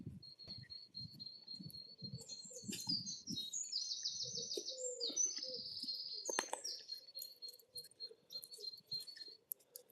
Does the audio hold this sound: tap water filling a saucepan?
no